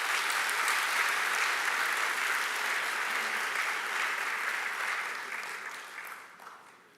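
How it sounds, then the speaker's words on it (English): A conference audience applauds the Inter-American Development Bank at an investment event in Jamaica, sustained dense clapping that holds steady, then fades out toward the end. "Please give a round of applause to the IDB."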